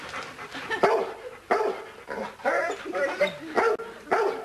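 A dog barks in loud, sharp repeated bursts, roughly six barks spaced unevenly close by, with people talking faintly between them.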